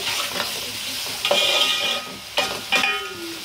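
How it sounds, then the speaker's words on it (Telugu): Ginger garlic paste frying in a pan, a steady close sizzle with three louder bursts as it is stirred and scraped, and no talking. "అల్లం వెల్లుల్లి పేస్ట్ కూడా వేసుకొని పచ్చివాసన పోయే వరకు అయితే కొద్దిసేపు ఫ్రై చేసుకున్నాం."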